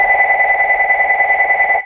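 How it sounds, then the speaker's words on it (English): A mobile phone ringtone plays loud and close, a steady warbling electronic tone that pulses evenly for about two seconds with no talking. "There goes my phone."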